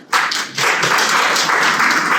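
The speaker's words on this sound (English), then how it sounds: "Clap for this gentleman." Audience applause from a crowd at a lecture hall talk, a sustained burst of clapping that starts abruptly and continues steadily and loudly throughout, with no voices over it.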